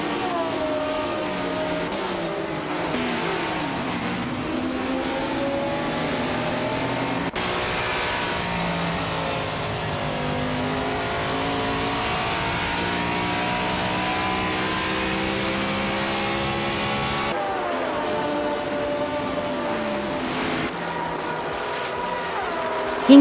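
Several race cars in a racing video game, including a 1977 Porsche 936, drone steadily with layered engine tones that rise and fall through gear changes, loud and continuous without any talk.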